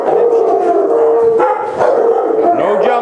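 Several dogs in a group training camp bark, yip and howl together in a loud, continuous, close-up chorus with no pauses.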